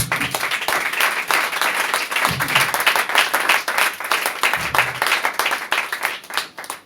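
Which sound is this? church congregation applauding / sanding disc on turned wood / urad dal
church congregation applauding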